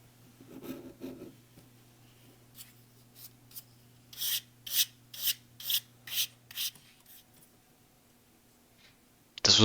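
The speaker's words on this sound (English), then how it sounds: "The paste was absolutely dry rotted. There's nothing left of it. Little sweeping. Scrape that off." Dried, crumbling thermal paste being scraped off the fins of an EVGA GTX 760 SC ACX heatsink, a close series of about eight short dry rasping strokes in an even rhythm, preceded by softer rubbing, with a steady low hum beneath.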